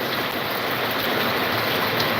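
Heavy monsoon downpour in Latur, a steady dense hiss of rain filling the whole moment without a break, with no other sounds standing out.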